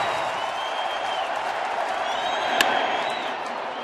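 Baseball stadium crowd at a 2014 NLDS playoff game roars steadily throughout, a dense sustained cheer with scattered whistles and one sharp spike near the end as fans stand awaiting the final out.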